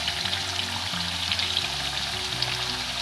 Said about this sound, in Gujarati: મીડિયમ ફ્લેમ ઉપર જ આપણે એને તળાવવા દેવાની છે